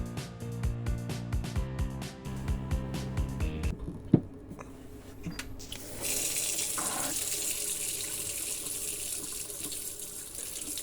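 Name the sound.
water running from a tap, draining the pipes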